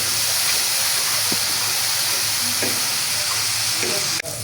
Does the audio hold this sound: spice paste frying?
yes